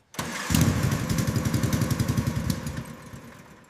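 Restored Italian police motorcycle kick-starting, catching with a loud burst, then settling into a close, even, thumping idle with rapid regular pulses before easing off slightly.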